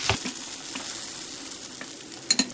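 Green peppers fry in a pan for a breakfast omelette and are stirred, giving a steady close sizzle with a few spatula scrapes and clicks, one double clack near the end.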